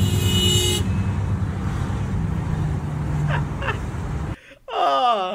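Car horn honks sound over loud traffic and road noise, a sustained blast at the start followed by shorter faint toots, then a brief drop and a wavering tone at the end.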